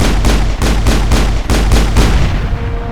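Rapid bursts of gunfire from a Mass Effect firefight, about ten loud booming shots in a steady rhythm with a heavy low rumble between them, fading slightly toward the end.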